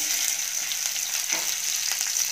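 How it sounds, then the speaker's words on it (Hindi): Okra frying in oil in a pan for a dal-style bhindi dish produces a loud, constant sizzle with crackling spatters throughout and no voices. "भिंडी को यहाँ पे आपको अच्छे से फ्राई करना है"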